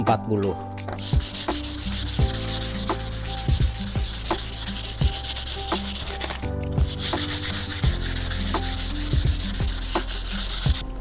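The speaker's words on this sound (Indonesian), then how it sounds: "kita akan diamplas dengan menggunakan nomor 240" Sanding over uneven wood filler on a wooden piece with 240-grit sandpaper, a continuous close, loud scratchy rasp of repeated strokes with a brief pause midway, alongside steady background hum and occasional knocks.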